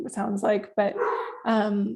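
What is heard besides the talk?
dog barking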